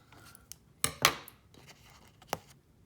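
Scissors snip out a small waterslide decal: two crisp, close cuts in quick succession, followed after a pause by one more sharp snip, with faint paper rustling between them.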